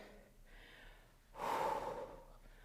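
A person catches their breath during a running warm-up workout: one sharp, loud exhale or gasp rushes out close to the microphone after a quieter stretch.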